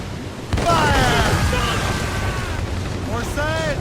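Naval cannon fire in Assassin's Creed Rogue during a ship battle, a loud booming blast followed by a sustained rumbling roar, with shouted voices over the battle.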